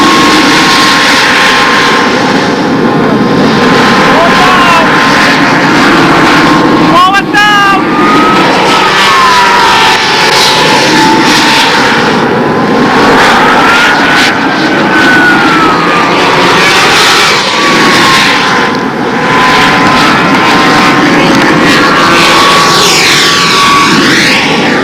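A control line stunt model airplane's glow engine screams loud and continuous as it flies its circles at a windy nationals contest, the pitch rising and falling with each pass and never pausing.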